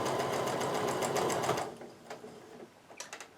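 Domestic sewing machine stitching quarter-inch seams along a Bargello quilt strip, running steadily and loud for about a second and a half before stopping, followed by faint handling clicks and rustles.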